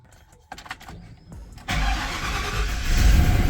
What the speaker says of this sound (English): we should be able to crank this car up